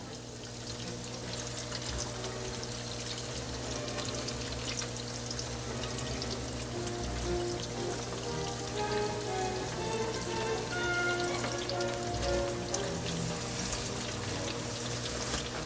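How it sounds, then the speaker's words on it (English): Cauliflower pieces fry in clean oil with a steady, even sizzle and crackle that carries on at moderate level throughout, with no talking over it. "So we drop them in there and we just let them cook up. Nice clean oil, so we're good."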